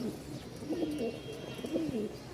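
A young Rajshahi Giribaz pigeon, a male, coos softly in low, rolling phrases, two or three burbling calls close by over a faint background hum.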